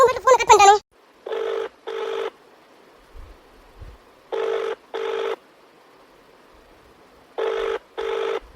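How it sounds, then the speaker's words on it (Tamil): A telephone rings in three pairs of electronic double bursts, each pair separated by a few seconds of quiet hum, with a brief snatch of speech at the very start. "நீங்க வேற ஓயாம ஃபோன் அடிச்சுட்டே இருக்கீங்க"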